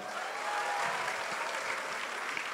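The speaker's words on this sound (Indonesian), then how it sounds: "Tepuk tangan dulu semuanya" A crowd at a live political rally in Bandung applauds, a steady wash of distant clapping at moderate volume, continuous through the short stretch with no talk over it.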